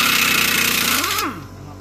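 A ratchet wrench works on a ball joint bolt of a Mitsubishi Outlander, giving rapid buzzing mechanical clicks up close that drop off abruptly at the end.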